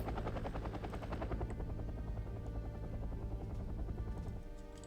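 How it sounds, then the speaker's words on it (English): A Chinook helicopter touches down in the strategy game Wargame: Red Dragon, its loud, continuous rotor thump and engine roar filling the scene before easing slightly at the end. "Be aware that that Chinook can and possibly will get shot down by the buck. I'm just landing him right now."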